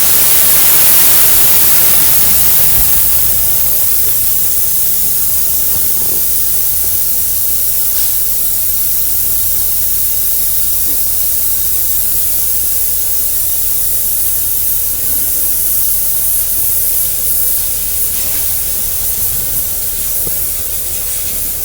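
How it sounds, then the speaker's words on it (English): Compressed air hisses steadily out of a truck's primary air brake tank as it is bled, a loud, continuous broadband rush that starts strongest and holds nearly constant for about twenty seconds. "we're going to bleed our primary tank to make sure that the one-way check valve on it is working properly"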